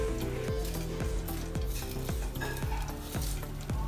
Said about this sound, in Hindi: इसमें ऐड कर लेंगे, ये ऑयल पहले से गर्म है। सबसे पहले ऐड कर लेंगे इसमें जीरा।